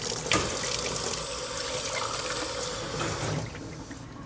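A kitchen tap runs steadily into a sink, a close, constant rush of water that thins out and stops near the end with a small knock.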